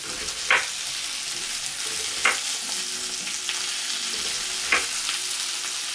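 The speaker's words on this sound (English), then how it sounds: "I'm gonna give them a little stir while she's cooking that." Potatoes and broccoli sizzling in a hot pot for vegan broccoli cheddar soup, a steady loud frying hiss with three brief scraping clicks as they are stirred.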